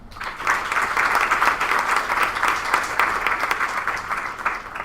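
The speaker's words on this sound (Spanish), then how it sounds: "Lo recibimos con un aplauso." An audience applauds steadily to welcome a speaker at a literary talk, the clapping dense and even throughout with no voices over it.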